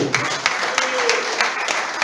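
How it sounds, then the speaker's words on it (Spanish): A church congregation claps during a Spanish-language worship service, a short burst of rhythmic, moderately loud hand claps with a faint voice faintly underneath. "Aplaudan al que vive."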